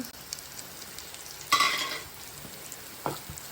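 Curry leaves dropped into hot oil in an ivy gourd stir-fry crackle in a sudden loud burst that eases over about half a second, over a low steady pan hiss, with a smaller spatter near the end.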